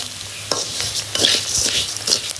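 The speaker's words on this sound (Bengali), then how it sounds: "ভাজা কমপ্লিট চাল এই যে দেখেন কি সুন্দর চাল ভাজা হয়েছে" Rice being dry-fried in a pan is stirred with scraping, rustling strokes and a light sizzle, several close, irregular stirs with no talk.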